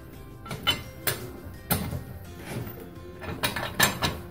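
Wheel lug nuts being tightened during a brake pad and rotor job, giving a run of close metallic clanks, ratcheting clicks and knocks at irregular intervals with no talking.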